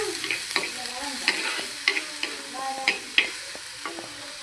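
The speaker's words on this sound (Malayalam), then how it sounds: "അതുവരെ നമ്മളിത് ഇങ്ങനെ റോസ്റ്റ് ചെയ്തുകൊണ്ടിരിക്കണം, സോട്ട് ചെയ്തുകൊണ്ടിരിക്കണം." Onions sautéing for tomato rice: a spoon scrapes and stirs the pan in repeated strokes over a soft, steady sizzle, close and alone.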